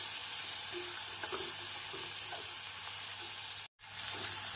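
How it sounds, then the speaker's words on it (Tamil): Onions sizzle and sauté in a hot pan over medium heat, a steady crackling fry with light stirring scrapes, close and constant, briefly cutting out near the end. "வெங்காயம் இந்த அளவு வதங்கவும் மிதமான தீயில் பொன்னிறம் ஆகும் வரை வதக்க வேண்டும்"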